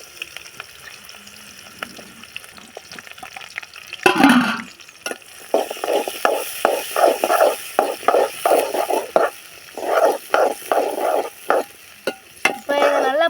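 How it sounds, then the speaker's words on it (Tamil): Onions stirred in a hot pan while frying for mango pachadi, giving a steady sizzle with repeated scraping strokes of a spoon at a regular rhythm, close and fairly loud, after a brief louder clatter. "அடுத்ததாக நம்ம வெங்காயத்தை சேர்த்து நல்லா இப்போ கிண்டி விட்டுக்கலாம்."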